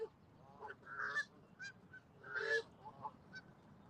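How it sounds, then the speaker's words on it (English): Several geese honk in short bursts, some calls overlapping, with quieter background noise between them at moderate distance. "Seems like these geese are all over these days."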